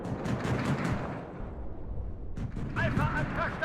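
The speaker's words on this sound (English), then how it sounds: "Oh, that artillery piece just sniped that T-55." Artillery fire in a WARNO battle destroys a T-55 tank, with rumbling booms and crackling blasts under radio chatter and someone talking, followed by a sharper burst of shots.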